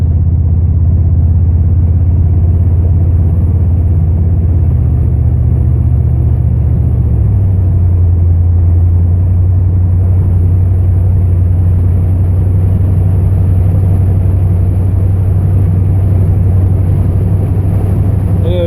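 Steady loud engine drone and road rumble from inside a moving car, a deep low hum that shifts pitch slightly around the middle as gears change, continuous and close with no talking.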